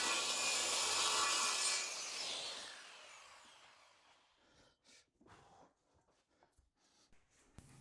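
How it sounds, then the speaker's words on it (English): A saw cuts a long piece of OSB board guided along a clamped straightedge, giving a loud, steady rasping cut for a few seconds that fades, followed by scattered quieter knocks and scrapes. "I'll clamp this in place and use that to guide the saw."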